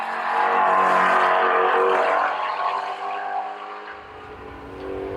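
A 2016 Ford Mustang Shelby GT350 V8 revs high above 6,000 RPM, a loud sustained, rising-then-easing engine wail heard close and alone, tapering off toward the end.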